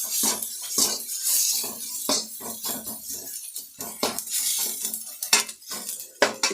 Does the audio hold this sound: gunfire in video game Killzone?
no